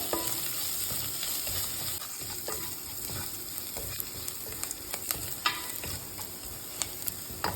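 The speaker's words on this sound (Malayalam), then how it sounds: "ഇതിൽ നമുക്ക് കുറച്ച് മഞ്ഞൾപ്പൊടി ഇട്ട് കൊടുക്കാം അതൊന്ന് നന്നായിട്ട് മിക്സ് ചെയ്യുക" Grated coconut and turmeric are stirred in a hot pan, giving a steady soft sizzle with scattered scraping ticks of the spoon throughout, fairly close and with no voices.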